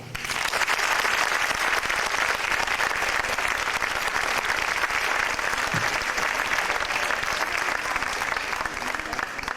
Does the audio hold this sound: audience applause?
yes